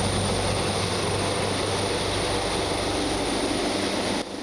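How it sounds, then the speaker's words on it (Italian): Firefighting helicopters shuttle water from a river to a wildfire, their loud steady engine and rotor roar continuous and close overhead before cutting off abruptly at the end. "Continui i passaggi dei 3 elicotteri che facevano la spola fra il fiume Timavo e l'area interessata dal rogo"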